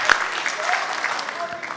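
Convention audience applauding at a state party convention, a broad burst of clapping that swells early and carries steadily through the moment, with some voices mixed in.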